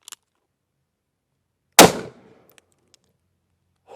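Single sharp shot from a Cimarron .44 Magnum firing a 200-grain Hornady XTP bullet into clear ballistics gel, a loud sudden crack with a short decaying tail, then a few faint clicks in an otherwise quiet scene.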